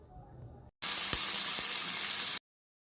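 Onions dropped into about three spoons of hot oil in a pan, cooking paneer butter masala, give a loud, steady hiss of frying that starts abruptly after a quiet moment, lasts about a second and a half, then cuts off.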